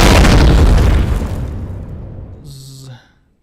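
A landmine detonates in the space survival game Empyrion Galactic Survival with a loud, close boom whose deep rumble decays over about three seconds, followed by a brief tonal game effect as it fades.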